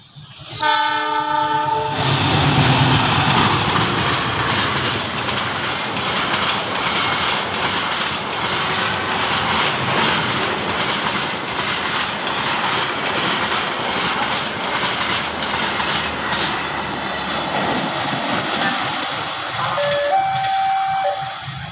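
A heavy CC 204 diesel locomotive rumbles loudly past, hauling a long freight train of clattering wagons, with a horn sounding briefly at the start and again near the end.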